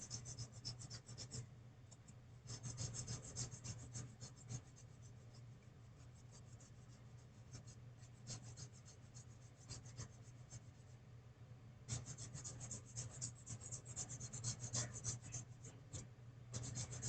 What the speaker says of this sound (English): when you sand those seams down real good